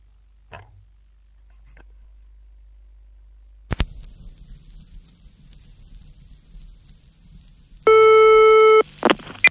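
A telephone ringing signal sounds at the start of a call: after near silence, a click, and a quiet line hiss, a loud, buzzing, tonal ring tone comes in near the end.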